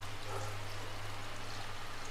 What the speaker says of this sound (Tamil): இன்னும் கொஞ்சம் தண்ணி ஊற்றணும்.